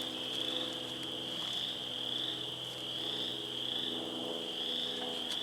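Wood frogs and other frogs call in a spring bog, a dense continuous chorus of trilling voices, fairly soft and distant with no talk.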